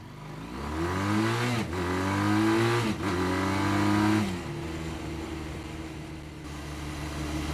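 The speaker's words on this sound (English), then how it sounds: "I'm going to do a little acceleration" Ural Neo 500 motorcycle with sidecar accelerating on a road, engine revving up through rising pitch sweeps broken by two gear shifts, then settling to a steadier drone; loud and fairly close, with no talking.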